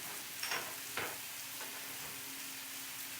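Seasoned food simmers quietly in a pan with onion powder, giving a soft, steady hiss with a couple of faint bursts of sizzle early on.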